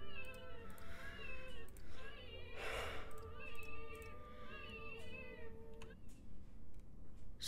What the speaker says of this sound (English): Is that like a cat?